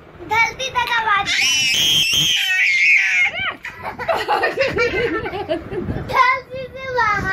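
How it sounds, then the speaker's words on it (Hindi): Someone shouts and screams loudly in long, strained bursts, with laughter-like breaks and an adult voice talking between the yells. "और चिल्ला और कस के."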